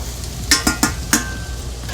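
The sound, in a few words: onions frying in grapeseed oil, being stirred in pan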